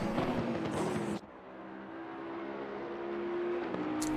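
In a racing video game at the Bathurst circuit, a race car roars past loudly and cuts off. A steady engine whine follows at a distance while cars climb a long straight.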